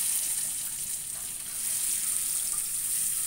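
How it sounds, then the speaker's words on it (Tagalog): Egg frying in a pan gives a steady, close, high-pitched sizzle that holds evenly throughout, with no speech over it. "Fried po natin yung ating egg"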